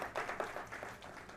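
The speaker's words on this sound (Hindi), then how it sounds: "इनके लिए तालियां बजानी चाहिए।" Audience applause at a public discussion forum on the future of Ayodhya, a brief, faint, diffuse patter of many hands clapping at once.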